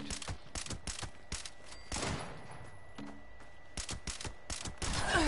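Video game gunfire at a fairground near a Ferris wheel, with shotgun and rapid shots bursting in quick clusters and pauses between them, loud and close, with mechanical clicks between volleys.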